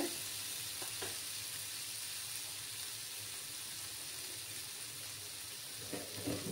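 Soybean curry with green chillies sizzles and fries steadily in a pan on a Bengali vegetarian stove, a continuous close crackle with a few brief stirring scrapes near the start and end.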